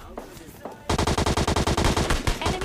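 Rapid automatic gunfire from a battle royale shooter game rattles in a fast, even burst of closely spaced shots, loud and close, following a moment of quieter game sounds and brief voice.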